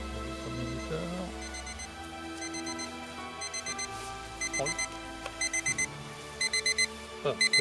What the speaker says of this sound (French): Le bip que vous entendez, c'est un minuteur.